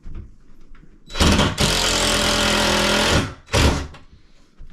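A power drill pre-drills a hole for a closet shelf support brace, whirring steadily and close for about two seconds, then giving a second short burst after a brief pause.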